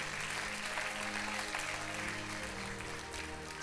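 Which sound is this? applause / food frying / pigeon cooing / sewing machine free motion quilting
applause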